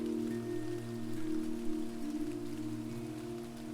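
Steady rain falling in a quiet forest setting, a constant soft wash with a low droning hum beneath it, continuous and even throughout with no voices.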